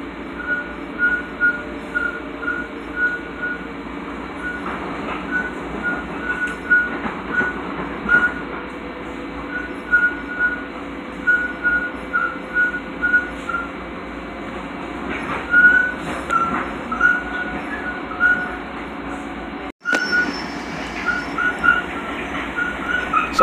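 A Long Island Rail Road train heading toward Mineola rumbles steadily from inside the car, with rhythmic wheel clatter over rail joints, a high whine, and a sharp momentary break near the end.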